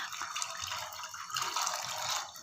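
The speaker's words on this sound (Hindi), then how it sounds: "चार गिलास हमने पानी शामिल किया है, साथ ही डाल देने चने हमने अच्छी तरह से साफ़ कर लिए हैं।" Four glasses of water pour into a cooking pot of cleaned chickpeas, making a steady splashing rush that swells toward the end, heard close with no voices.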